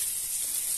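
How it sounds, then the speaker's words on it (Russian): Carp frying in a hot pan, a steady bright hissing sizzle heard close and continuous over a brief moment. "Часть карпа уже жарится."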